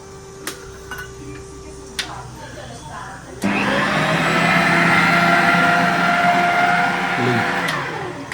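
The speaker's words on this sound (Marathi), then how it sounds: "त्यासाठी आम्ही यूज करतो आहोत हा अगाराचा स्टँड मिक्सर" An Agaro stand mixer kneading dough starts after a few quiet seconds, its electric motor settling into a loud, steady whirring hum with a rattling mechanical texture, close by and continuous to the end.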